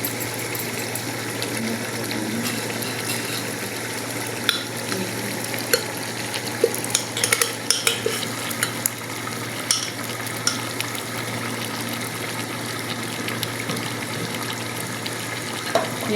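Steady sizzling of chicken frying in a pan as onion-ginger paste is stirred in, with occasional small clicks and scrapes of stirring, continuous and fairly loud without speech.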